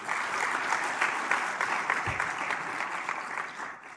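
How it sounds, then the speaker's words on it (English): A conference audience breaks into brisk, continuous clapping, close and steady for a few seconds with no talking over it. "Let's clap for God for this."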